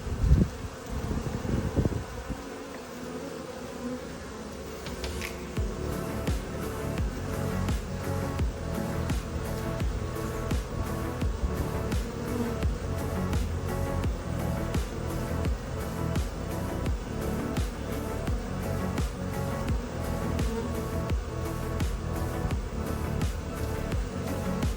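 Honeybees buzzing steadily at a hive being fed sugar water, a dense continuous drone close by with a louder burst of wingbeats at the start and faint rustling throughout.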